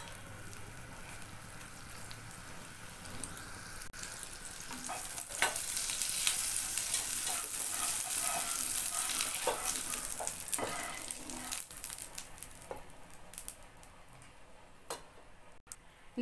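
Cube of butter melting in a hot kadai for a fluffy omelette, a soft sizzle that rises and peaks midway then fades, with light ticking taps scattered across it.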